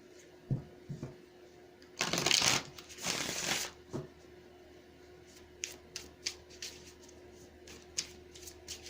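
Tarot cards being shuffled by hand, two dense bursts of riffling close up followed by a string of light, separate card taps and flicks, with no talking.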